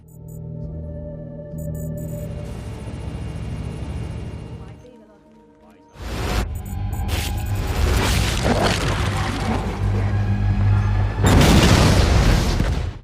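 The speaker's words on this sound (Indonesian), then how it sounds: "Film diawali dengan diperlihatkannya sebuah ledakan reaktor nuklir yang terjadi di PLTN" A nuclear reactor explosion at a power plant in Taiwan in an action film, with deep rumbling booms and loud blasts rising after a brief lull, thick and sustained through the scene.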